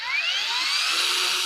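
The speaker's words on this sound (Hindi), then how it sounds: "क्या बात है, ग्राइंडर आ गया हमारा।" A battery-powered angle grinder whines at high pitch at a hardware trade fair in Delhi, a steady close, continuous run with slight pitch rise and no talk over it.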